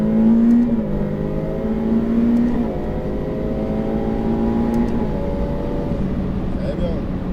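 Ferrari F8 Tributo accelerating on a race circuit, engine pitch climbing through gears with rising harmonic sweeps and shift drops, loud from inside the car with voices talking over it.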